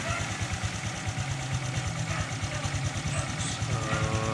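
A Honda XRM 125 Fi motorcycle engine idles close by with a steady, rapid low putter under a constant, even level, with faint voices in the background.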